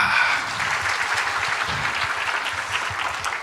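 A congregation at a Korean church service claps steadily in sustained applause, a dense even patter of many hands that continues throughout.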